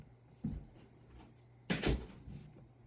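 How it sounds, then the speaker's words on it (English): A door in a home is pushed shut, with a soft knock followed by a louder closing thud, quiet and close by with no talking. "Close the door."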